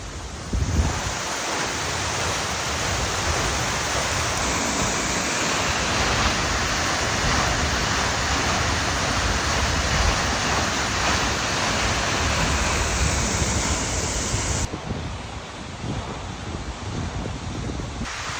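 Water pours down the Hatta Dam spillway in Dubai, United Arab Emirates, making a loud, close, steady roar that carries on unbroken and eases slightly near the end.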